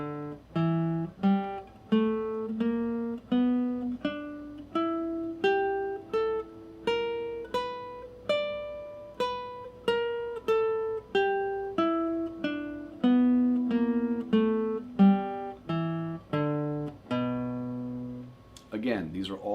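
An electric or acoustic guitar plays single notes of the E blues scale in steady succession, each plucked note ringing clearly and moving through the pattern positions, heard alone with no talking.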